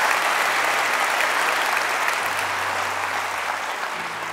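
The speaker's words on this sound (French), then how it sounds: "Applaudissements pour madame" Sustained audience applause greets a mother invited onto the stage at a live French comedy show, a dense, steady wash of clapping that tapers off slightly toward the end.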